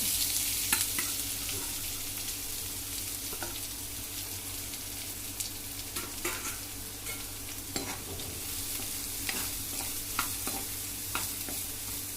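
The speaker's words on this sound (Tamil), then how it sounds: "அதுக்கப்புறம் கட் பண்ணி வச்ச வெங்காயம் ஆட் பண்ணிக்கிறோம்." Chopped onions frying in a pan for Chettinad pepper chicken, giving a steady sizzle with occasional stirring clinks and scrapes. It stays close and continuous with no talk, over a faint low hum.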